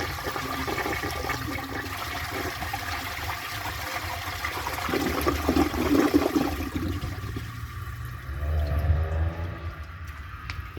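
A 1960 Standard Cadet toilet is flushed with a dish towel in the bowl, producing a loud, rushing gush of water that swirls and drains. The tank then refills with a gurgling trickle.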